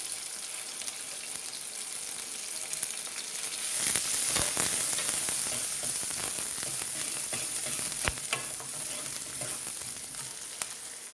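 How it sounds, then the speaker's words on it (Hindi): Chopped onion sizzles and fries steadily in hot oil with ginger and green chilli for a dal tadka, loud and close throughout, with a few stirring scrapes and a brief surge of sizzle midway; no talking. "इसमें मैं कटा हुआ प्याज डाल देती हूँ"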